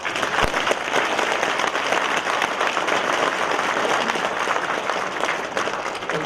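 A crowd at a patriotic political rally applauds in a dense, steady wash of clapping that stays loud and continuous throughout, with faint voices underneath.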